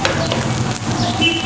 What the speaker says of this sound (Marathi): दोन्ही बाजूने ना आपण किती चांगलं असं भाजून घेतो ना तेवढं खायला पण मस्त लागतो.